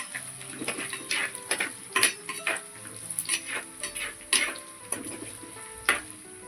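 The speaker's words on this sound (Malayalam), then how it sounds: "നമ്മൾ നന്നായിട്ട് തവിയിട്ട് ഇളക്കി സെറ്റ് ചെയ്തെടുക്കണം" A ladle stirring fish curry masala in a pan, irregular scraping knocks and clinks of metal against the pan, close and fairly loud, with a soft sizzle underneath and no talk.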